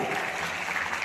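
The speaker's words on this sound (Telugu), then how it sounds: "గట్టిగా క్లాప్స్ అందరూ కూడా." Audience at an award ceremony applauding loudly and steadily, a dense, even wash of clapping that fills the whole short stretch with no pause.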